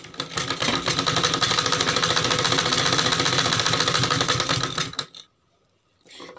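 A sewing machine runs a line of stitching on a choli blouse strip, a fast steady mechanical whirr lasting about five seconds, then stopping into near silence before a brief restart.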